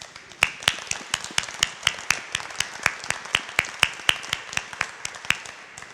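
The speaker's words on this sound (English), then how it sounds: "could we give a round of applause to ourselves and to the Cathedral and its team" An audience applauds inside a cathedral, many hands clapping in a brisk, irregular stream of sharp, fairly close claps that carry on for several seconds with no voices on top.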